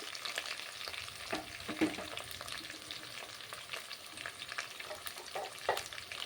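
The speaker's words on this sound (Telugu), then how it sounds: "ఆనియన్ అన్నీ వేసుకొని జాగ్రత్తగా మాడిపోకుండా కలుపుకోవాలి." Onions and curry leaves fry in oil while being stirred for a peanut capsicum curry, a quiet, continuous sizzle broken by scraping strokes of the spoon at irregular intervals.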